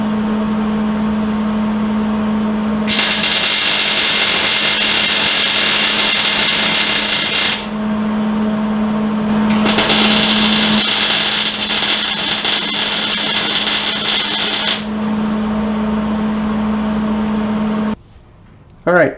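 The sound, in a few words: spot welding Johnny Joints on Jeep control arm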